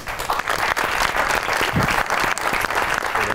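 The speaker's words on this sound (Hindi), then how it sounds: "बहुत सी तालियां होनी चाहिए उनके" A crowd claps enthusiastically in sustained applause that stays loud and even throughout.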